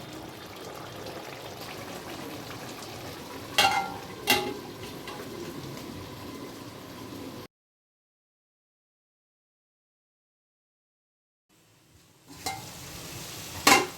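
Mutton stirred and fried slowly in a pan, a soft close sizzle with two sharp scraping stirs, then a long silent break before the frying and scraping return.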